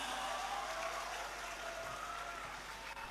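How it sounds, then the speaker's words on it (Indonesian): Applause from an audience of Islamic boarding school students and mothers at an afternoon gathering, a steady broad clatter of many clapping hands throughout, fairly faint and continuous with no talk. "Tepuk tangan dulu untuk Aresta"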